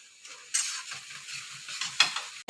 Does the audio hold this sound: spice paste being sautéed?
yes